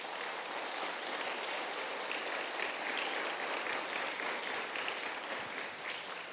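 A church congregation claps for Jesus during a worship service, a steady wash of applause that stays even and fairly distant for several seconds with no voices over it.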